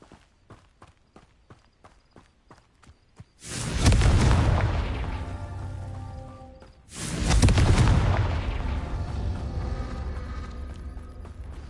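Two booming Confringo blasting-curse explosions in Hogwarts Legacy, each a sudden loud burst with a long rumbling decay, preceded by a quick series of light tapping steps or clicks.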